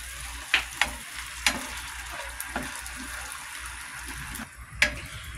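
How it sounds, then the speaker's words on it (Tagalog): Canned tuna being stirred into pesto pasta in a hot pan: a soft continuous sizzle broken by several sharp scraping clinks of a utensil against the pan, close and fairly quiet, with no talking. "ilagay na natin ang ating tuna. Mix lang. Mix lang po natin."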